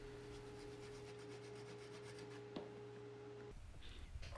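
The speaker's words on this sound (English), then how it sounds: "Then I can just finish off those cuts with this pull saw." A pull saw finishes cuts in wood with quiet, rhythmic rasping strokes, set against a steady low hum that stops abruptly near the end.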